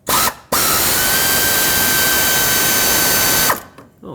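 An impact wrench or power ratchet loosens an exhaust manifold nut on a 2004-2009 Ford F-150 5.4L three-valve V8, a brief tap followed by one loud, steady three-second whir that cuts off abruptly.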